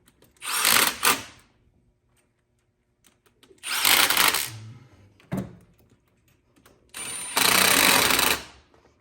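Valve cover bolts being tightened down on a Chevrolet 5.3 V8 with a power driver, three separate loud buzzing bursts of a second or two each with short pauses between.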